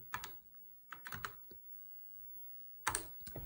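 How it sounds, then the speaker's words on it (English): Keys clack on an Apple IIe computer keyboard in a few short clusters of crisp strokes with quiet gaps between them, close and alone. "Now make sure caps locks is down because it is case sensitive, and we're going to type load."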